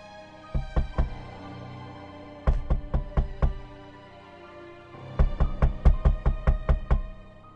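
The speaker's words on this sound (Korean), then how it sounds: "다시 문을 두드리는 소리가 나더군요" Knocking on a door as a horror radio sound effect: three clear bursts of rapid, loud raps, the first a short run of about four, then two longer runs of roughly seven or eight knocks, separated by quiet pauses.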